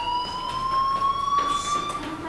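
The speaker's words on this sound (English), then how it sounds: "do you hear that fire alarm? That means you should be outside." A fire alarm in the video game Life is Strange, set in a school, sounding as a steady high electronic tone held throughout over soft background noise.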